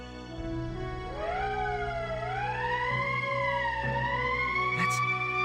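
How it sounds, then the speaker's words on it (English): An emergency siren wails in the PS4 video game Valkyria Chronicles, its tone sweeping up and down in smooth rising and falling cycles, loud and clear with no speech over it. "That's the emergency siren."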